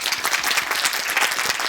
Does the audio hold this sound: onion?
no